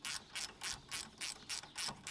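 A ratchet tightens the brake caliper bolts on a Polaris Ranger 1000 during a rear axle job. Crisp, rapid clicking comes in about eight even bursts, close and alone.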